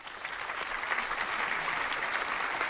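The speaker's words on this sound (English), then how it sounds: "Applause and a hello." Steady applause from a crowd, sustained clapping at an even level throughout with no voices standing out.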